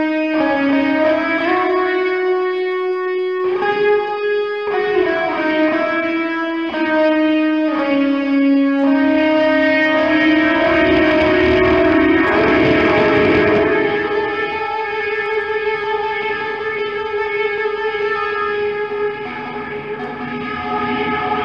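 Distorted electric guitar notes, played through Fishman Fluence pickups, ring out through heavy reverb, swelling into a sustained, oscillating wash of effected tone.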